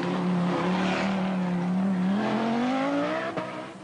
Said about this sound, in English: Driving the #2 short wheelbase Audi, she sets fastest time on special stage 2.